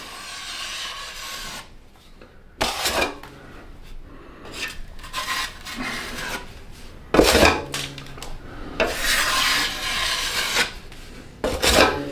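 A drywall knife scrapes joint compound across sheetrock in long rasping strokes, close and fairly loud, with sharper scraping bursts among steadier smoothing passes and no talking.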